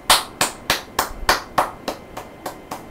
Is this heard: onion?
no